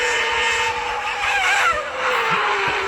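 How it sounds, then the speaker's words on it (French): A car drifts and skids with tires squealing, producing a sustained high screech over a low engine hum that swells and wavers across a few seconds. "Il a fait un drift."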